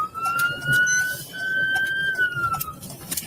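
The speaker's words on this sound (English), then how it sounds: "First one I heard, the siren." A wailing police emergency siren holds a long rising and falling tone at moderate distance over steady background noise and faint chatter, at an Idaho crime scene.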